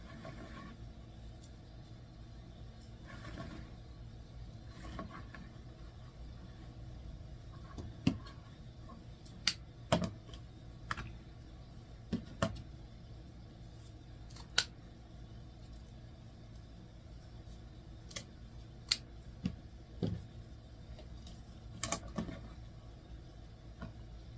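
Scissors cutting stacked mesh pieces for a fall pumpkin wreath: a series of sharp, separate snips spaced irregularly over a quiet background, close and crisp, with no talking.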